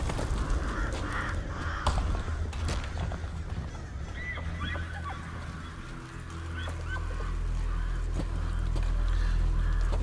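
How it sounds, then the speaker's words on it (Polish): Birds in the video game Death Stranding give repeated honking, cawing calls over a noisy outdoor backdrop, while a low rumble swells toward the end. "Zwierzęta uciekają, nawet ptaki"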